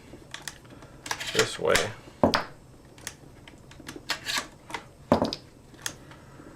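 Twelve-gauge shells slide and click one at a time out of the magazine of a new Charles Daly Semi-Auto Field Hunter VR-MC shotgun, giving several sharp close metallic clacks with short pauses. A voice speaks briefly.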